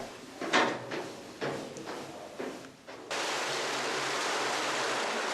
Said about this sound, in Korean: 콸콸 흐르는 물줄기 소리만으로도 시원했는데요